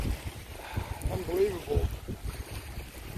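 Ocean swell slaps and washes around a folding kayak made of fluted plastic sheet, the water sound mixed with wind noise while someone talks briefly.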